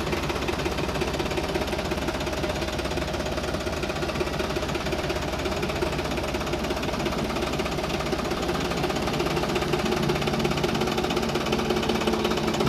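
A Hornet 3630 Plus tractor's 50 HP, 2991cc diesel engine runs steadily with a rough, knocking rumble, constant and fairly close, with no voices over it.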